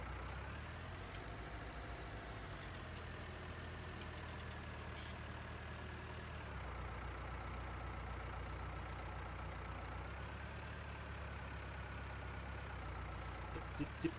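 A tractor engine idles in the farming game Landwirtschafts-Simulator 19 with a steady, low, even drone for over ten seconds. The pitch shifts slightly midway, and faint clicks can be heard near the end.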